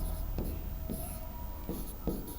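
Pen or chalk writing in a Hindi grammar class, several short scratchy strokes in quick bursts, close and fairly quiet, with no talk over them.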